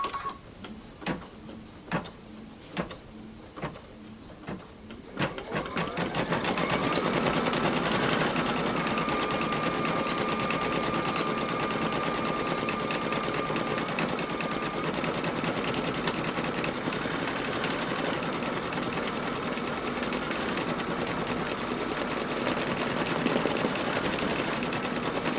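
An embroidery machine starts with a few quick mechanical ticks, then settles into a loud, steady, rapid stitching whir that runs close and unbroken with no talking.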